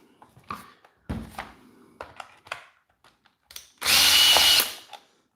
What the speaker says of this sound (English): I'll get the screws out of this one too and see what's happening.